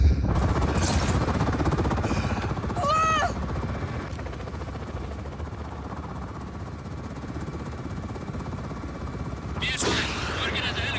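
A steady low helicopter rotor thrum from the video game Just Cause 4 fills the scene, mid-distance and constant, with a few brief sharp bursts and chirps over it.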